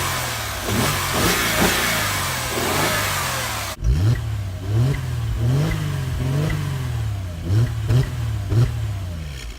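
A 2011 Mercedes E350 Cabriolet with a naturally aspirated 3.5-liter V6 revs repeatedly, close and loud, each blip rising and falling in a steady series.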